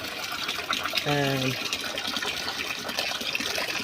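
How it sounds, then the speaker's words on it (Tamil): Water splashing and gushing steadily as it is poured to refresh drinking water for pigeons, with a voice talking over the running water throughout. "தண்ணி வந்து ஒவ்வொருத்துக்கும் மாற்றிக்கிட்டு இருக்கோம்."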